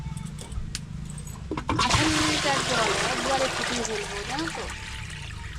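Water pours steadily from a full cooking pot (deksi) holding about eighteen litres, a loud rushing, gurgling stream that starts about two seconds in and runs to the end, with faint voice sounds underneath.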